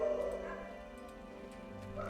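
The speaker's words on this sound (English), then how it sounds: "Dogs are going ham." Dogs barking in the video game Enderal, a few overlapping barks and yips over a steady droning game background, moderately distant.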